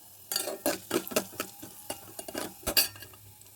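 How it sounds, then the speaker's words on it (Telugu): Mustard seeds, cumin, chana dal and asafoetida crackle and pop in hot oil, mixed with clinks of a spoon against a pan, close and busy for a few seconds. "ఇది పోపు వేగిపోయింది"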